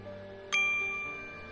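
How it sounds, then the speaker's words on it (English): A single bright bell strike in the Kensington scene of The Testament of Sherlock Holmes, a clean ding that rings on and slowly fades over a soft tonal background hum, alone with no voices. "There's that bell again."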